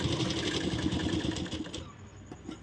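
Sewing machine stitching a blouse, a fast steady mechanical whirr with rapid needle chatter that eases off near the end, close and fairly loud.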